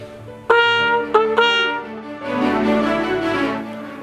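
Trumpet playing a short written passage: three separated sustained notes, then a fuller, louder held phrase, heard alone with no talking.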